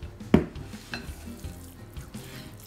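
A spatula scrapes around the sides of a bowl of vegan brownie batter in a few short, soft strokes, with one sharper knock near the start and quieter swipes after it.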